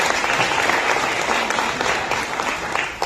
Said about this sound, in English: I'm not sure who deserves the hand clap there.